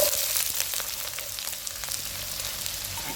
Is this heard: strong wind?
no